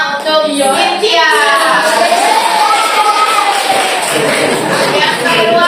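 Applause from an audience at a class presentation, sustained clapping and cheering with crowd chatter that stays loud and steady throughout, with voices talking over it.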